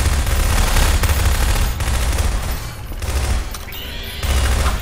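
Rapid bursts of gunfire in the video game Garry's Mod, in a horror-themed level, loud and dense across the whole stretch with brief lulls and booming low-end shots.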